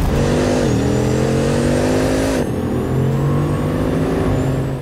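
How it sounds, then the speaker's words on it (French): A Bugatti Tourbillon V16 engine revs loudly and close, its tone climbing and dipping through a few throttle sweeps with steady harmonic pitch shifts. "le petit V16 là, c'est un vrai moteur de passionné"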